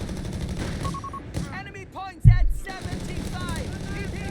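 Artillery barrage in Company of Heroes 3 battle, one heavy low impact standing out amid continual thuds and gunfire, with a commentator's voice talking over it.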